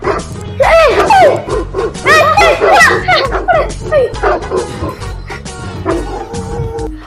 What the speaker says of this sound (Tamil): நாய் எப்படி வீட்டுக்குள்ள வந்துச்சு